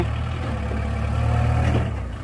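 A Kubota L5018 tractor, working to grade crushed stone onto a concrete road shoulder, idles close by with a steady, low, throbbing engine rumble and no voices.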